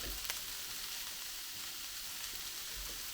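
Steady, soft sizzling of konjac noodles frying in a wok over medium heat, a continuous crackling hiss with a few faint stirring ticks.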